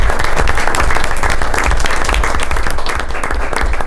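A school committee meeting audience applauds steadily and loudly for the appointment of a new deputy superintendent, a dense, even wash of clapping that lasts the whole stretch.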